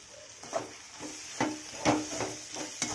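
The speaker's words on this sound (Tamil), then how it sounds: "இப்போ நல்லா வதங்கிட்டு எல்லாமே இப்போ நம்ம எடுத்து வச்சுருக்கிற மிளகு பொடி எடுத்து அதை கூட சேர்த்து கிளறி விடணும்." Spoon scraping and stirring through a sautéing mixture in a pan as pepper powder is mixed in, a series of sharp scrapes and soft clatters roughly every half second over a low sizzle, close and fairly quiet.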